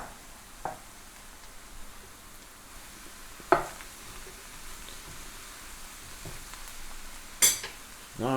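Eggplant added to a pan with browning garlic and softening celery, a soft steady sizzle under a few sharp metallic clinks and stirring scrapes, no talk.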